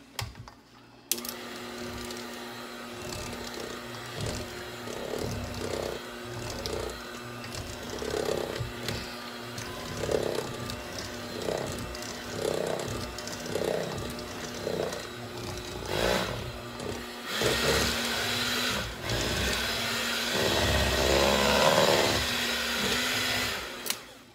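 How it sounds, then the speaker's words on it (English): Electric hand mixer beating snickerdoodle cookie batter in a bowl, a whirring motor with rhythmic grinding pulses as the beaters work, growing louder and rougher near the end, close by with no talk. "It's the only hand mixer I got"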